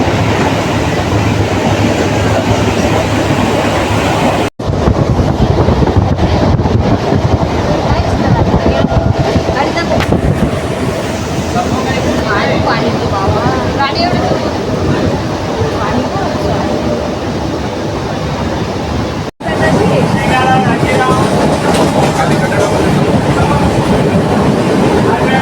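Loud, continuous rumble and clatter inside a moving Mumbai local train, with steady rattling over the whole span, two brief dropouts, and voices talking underneath.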